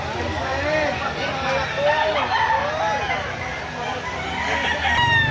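Chickens and roosters at a poultry market crowd the air with repeated crowing and clucking close by, a rooster's crow rising clearly above steady background chatter as people talk throughout.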